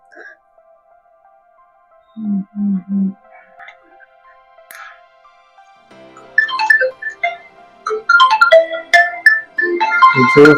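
A phone ringtone plays: a sustained electronic tone, then a few low thumps, then a louder melodic ringtone with busy tones toward the end.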